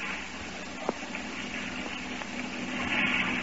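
A low, steady motorboat engine drone hums in the distance, slowly growing a little louder toward the end as it draws nearer.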